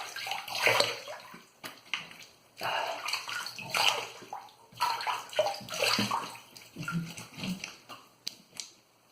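Water splashes in irregular bursts as a face is rinsed at a sink after a razor shave, with hands cupping and slapping water close by and short pauses between splashes.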